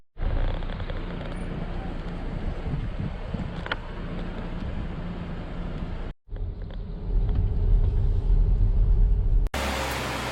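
Volvo V60 Cross Country driving through a village in Hoengseong, a steady low road and engine rumble with wind buffeting, briefly cutting out and then louder near the end.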